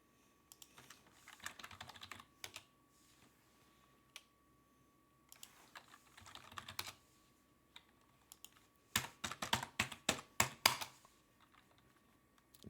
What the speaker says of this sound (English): Man, my typing is bad.